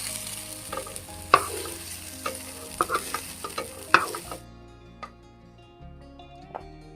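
Food sizzles in oil in a pan during Bengali village cooking of a sago, mung dal and vegetable dish, with a spoon stirring and scraping in uneven knocks. The hiss cuts off midway, leaving scattered scrapes and taps.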